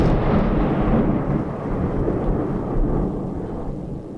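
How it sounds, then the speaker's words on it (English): A thunder sound effect rolls out as a deep, heavy rumble, loud at the start and slowly fading over several seconds, with no talk over it. "That was thunder."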